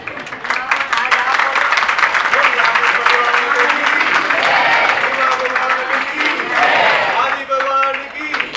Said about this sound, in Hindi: फिर तालियां क्यों बजाते हो?